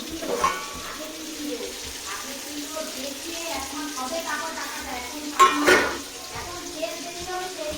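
Ginger and spice paste for a soybean biryani fries in a pot with a crackling sizzle, interrupted by stirring scrapes and a louder clatter midway, with a faint voice in the background.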